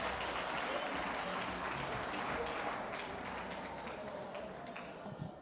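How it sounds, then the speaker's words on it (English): Audience applause at a Free State community gathering, a steady wash of clapping at low volume, gradually thinning toward the end with a few stray claps. "Let's give a warm round of applause to Oma."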